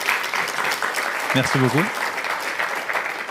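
An audience claps after a talk, producing a steady wash of applause throughout while a voice briefly speaks over it midway.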